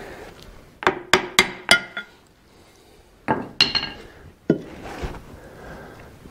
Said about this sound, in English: they're big enough where you can get the chisel in like that and break them loose